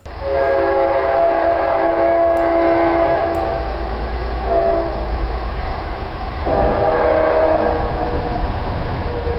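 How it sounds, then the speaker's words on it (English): An AI-generated distant train horn: a loud, sustained chord-like blare that swells, dips and sounds again in a second long blast, over a low rumbling bed. "Let's go with distant train horn"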